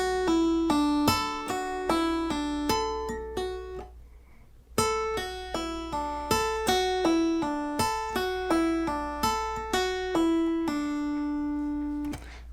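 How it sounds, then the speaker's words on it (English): Acoustic guitar in an alternate tuning playing repeated tap notes, each followed by a pull-off, crisp close picked pairs in a steady rhythm with a short pause midway, no voice. "After I tap, I pull off, and I create the next note."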